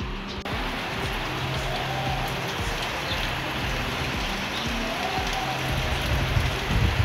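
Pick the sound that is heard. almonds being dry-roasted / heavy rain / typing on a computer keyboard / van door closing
heavy rain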